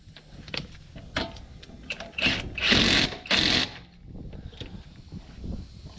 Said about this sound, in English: This ratchet is a little excessive.